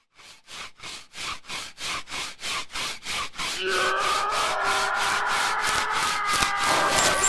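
Rhythmic back-and-forth rasping of wood pieces being hand-sanded for dungeon tiles, strokes regular and close, blending into a continuous louder scrape midway through.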